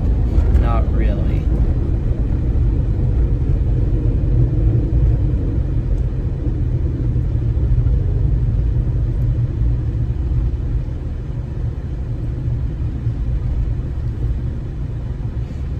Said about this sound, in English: I feel like I broke one of my brake pads, and I feel like that's why it's grinding.